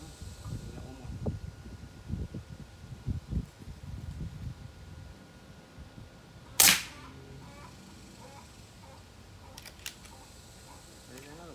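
A single sharp air rifle shot from a Beeman underlever fitted with a suppressor, a brief crack standing out against quiet background rustle, with muffled talk and handling noise earlier.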